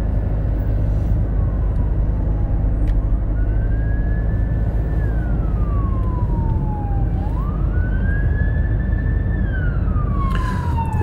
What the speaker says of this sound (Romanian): Multe ambulanțe, văd pe drum, s-aud.